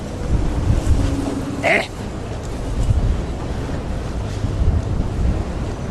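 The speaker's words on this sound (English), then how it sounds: "Why is it so windy here?" Strong wind buffets the microphone with a constant roar and gusty rumble, with a faint brief sound partway through.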